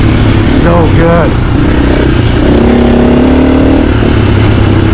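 A 2024 Husqvarna FE450 dirt bike engine revs loudly while being ridden, rising and falling in pitch with steady gear-driven drone and wind rush throughout.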